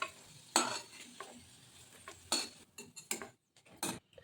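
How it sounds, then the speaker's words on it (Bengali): Potatoes frying in oil in a home kitchen while cooking a Bengali vegetarian dhokar dalna, with a low steady sizzle under several sharp stirring and utensil scrapes against the pan, no talking. "এবার আলুগুলো ভালো করে লাল লাল করে ভেজে নেবো।"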